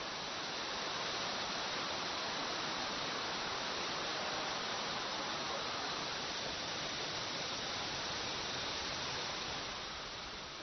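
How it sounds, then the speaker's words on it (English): Wide Jiuzhaigou waterfall in China in winter, a continuous, broad roar of falling water, steady and loud with no voices. "as the widest waterfall in China, it certainly deserves that description"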